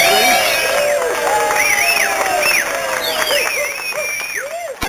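A studio audience cheers, whoops and whistles loudly and without a break, with applause underneath and bright whistle-like calls rising and falling throughout.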